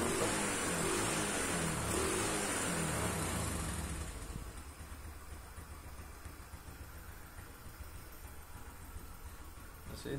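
A 2004 Suzuki Smash motorcycle engine idles with a steady, smooth hum, louder at first and then settling into a quieter, even idle.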